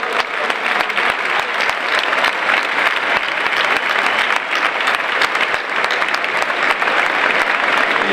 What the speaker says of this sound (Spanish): Un aplauso por favor de Marcos.